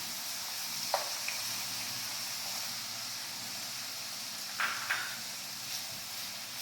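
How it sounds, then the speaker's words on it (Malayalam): Crushed green chilies and curry leaves frying in a pan, a steady hissing sizzle throughout with a few brief scrapes and stirs, moderately loud and close, no voices. "എല്ലാം കൂടെ നന്നായിട്ടൊന്ന് മൂപ്പിച്ചെടുക്കാം"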